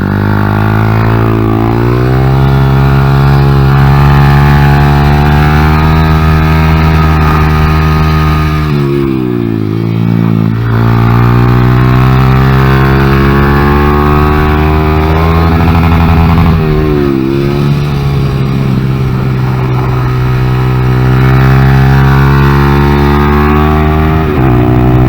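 A Honda Grom motorcycle fitted with an upgraded shift pawl and spring laps a kart track, its small engine loud and close, droning steadily with rising and falling revs through repeated gear changes.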